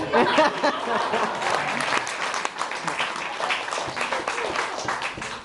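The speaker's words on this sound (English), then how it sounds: "give them a clap there." Wedding guests burst into steady clapping for the couple, a dense roomful of applause with some voices and light laughter mixed in, loud and close throughout.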